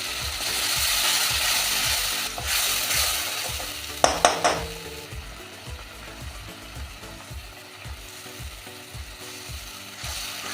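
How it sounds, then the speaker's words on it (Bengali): Onion paste with cumin sizzles steadily in a pan while a utensil scrapes and stirs in a regular rhythm, with a brief clatter partway through; no one speaks. "এবার পেঁয়াজটা একটু ভালো করে কষে নেব।"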